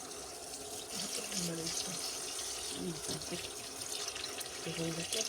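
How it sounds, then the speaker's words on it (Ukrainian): Running tap water splashes steadily into a sink as rice is washed while someone talks over it, the flow close and continuous. "Зараз я мию рис"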